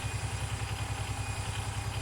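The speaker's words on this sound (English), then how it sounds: "Start the engine. And let it kind of start idling smoothly." A vehicle engine in the video game Gear Blocks idles with a regular low, pulsing throb, close and even throughout, with no voices.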